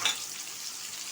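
Onions and green chillies sizzle steadily in a hot pan, a soft, even hiss of frying with a brief brighter crackle at the start and no voices.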